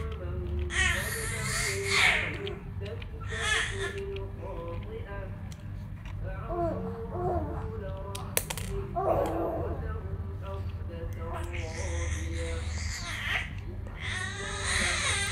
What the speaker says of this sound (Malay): Maafkanlah suara baby tu.